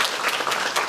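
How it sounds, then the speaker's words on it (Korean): Audience applause breaks out at a Korean musical special-day event for Smoke, a steady dense wash of clapping from a crowd, moderately loud and continuous throughout with no clear talk. "박수 한번 부탁드리겠습니다"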